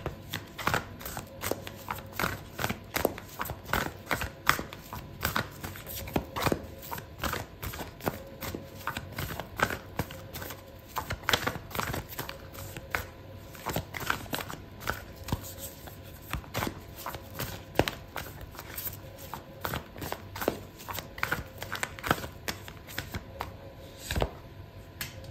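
Oracle cards are shuffled for a tarot reading, giving a long run of soft riffling and tapping strokes in an irregular rhythm, close and moderate in volume, with no voice over it.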